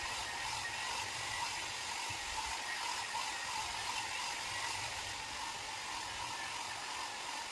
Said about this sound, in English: I'll dry my hair